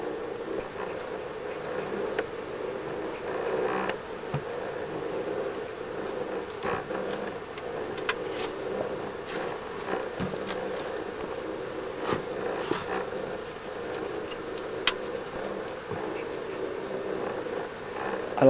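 Honeybees buzz steadily around an opened beehive in a Provence apiary, a continuous mid-pitched hum with occasional faint knocks and scrapes as frames are worked loose.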